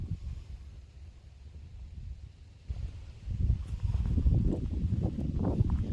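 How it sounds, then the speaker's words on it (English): Gusty wind buffeting a microphone beside a tent at a campsite during the Sturgis motorcycle rally, a low rumbling roar that swells stronger in the second half, with faint rustling and no talking. "I'm kind of crouched down right now next to the tent, battling this wind."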